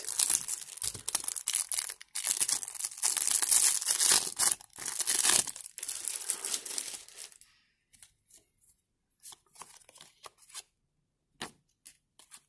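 Match Attax Extra trading card multipacks are torn open, with loud crinkling and ripping of foil wrappers for several seconds, then a quieter stretch of scattered soft rustles and card handling.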